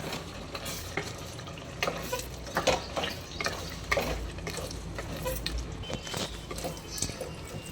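Mutton gravy stirred in a pot after green curry leaves, a green chilli and coconut go in, giving repeated wet scraping and squelching strokes over a low sizzle, fairly close and steady with no talking.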